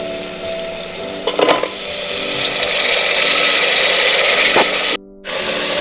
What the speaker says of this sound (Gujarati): હવે આપણે શાક ઉમેરી દઈએ એમાં।